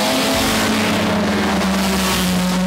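Historic race cars race at the Monaco Historic Grand Prix in Monte Carlo, a loud continuous roar of engines close by with a rising and falling whine as cars pass.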